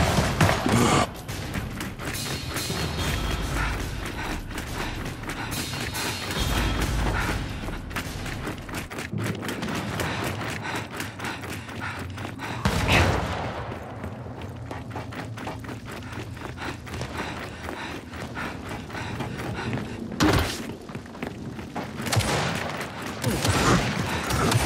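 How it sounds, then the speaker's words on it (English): Dense gunfire and explosive booms from a team deathmatch in the Gears 5 video game, including a flashbang, with rapid continuous bursts and several sharp louder blasts punctuating the din throughout. "Throwing flashbang! Flashbang!"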